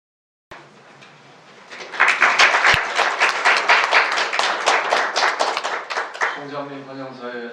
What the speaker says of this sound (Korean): 총장님 환영사에 저희가 이렇게 박수 치는 걸 영상으로 찍어서 보내드리도록